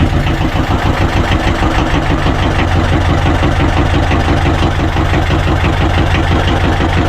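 Engine of a fishing boat that had sunk, now restarted and running loud and close in a steady rumbling chug with an even rhythmic throb throughout.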